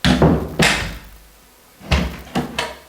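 An interior door newly hung in an old frame swings shut with a solid thump and latch click, followed by a couple of lighter knocks and bumps against the frame, close and clear with no talk.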